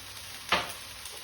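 King prawn kwai diew is stir-fried in a wok, a single short sizzling burst as the food is tossed, fading quickly into a quiet hiss.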